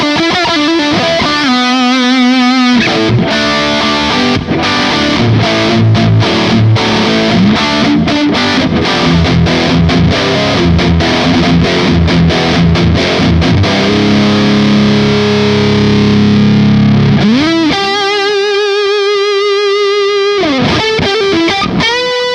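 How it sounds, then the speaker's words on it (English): An electric guitar runs through a TTone Klon Centaur clone overdrive pedal with gain and all controls at maximum, playing loud, saturated distorted chords and riffs with ringing sustained notes and brief pauses. "let's try it upping the gain to max, where we have all the controls set for max,"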